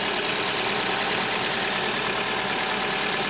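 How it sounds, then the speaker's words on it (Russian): Idling KIA Rio engine with fuel injectors ticking hard, a steady close mechanical hum with fine rapid clatter running through the whole stretch, no talking. "Вот форсуночки еще цокают сильно"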